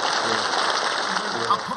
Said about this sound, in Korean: 우리 모두 뜨겁게 박수하겠습니다